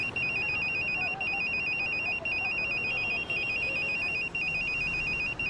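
A telephone rings in the Emergency 4 firefighting game, a steady electronic warble repeating continuously and loud throughout, with no talk over it.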